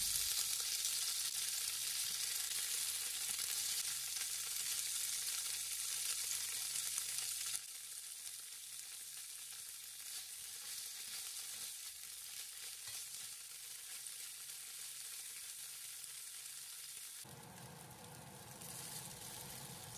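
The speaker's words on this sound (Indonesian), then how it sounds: "Tumis tahu sebentar." Tofu sizzles steadily in hot oil in a wok as it is stir-fried, a continuous bright frying hiss that stays loud throughout, easing slightly partway and changing character near the end.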